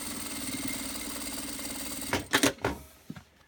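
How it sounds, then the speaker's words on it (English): A sewing machine stitches along the seam allowances of a fabric bag, running with a steady mechanical whir for about two seconds before stopping in a few sharp clunks and clicks. "Stitching right on these seam allowances."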